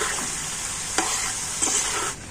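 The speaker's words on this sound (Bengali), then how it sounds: "তো দেখুন সমস্ত কুরকুরেগুলো তেলের মধ্যে ভেসে উঠেছে। আর এবার আমি খুন্তি দিয়ে এইভাবে উল্টে পাল্টে দেব।" Homemade flattened-rice kurkure fries in hot oil, a continuous close sizzle broken by two brief scraping strokes of a spatula turning the pieces, with no talking.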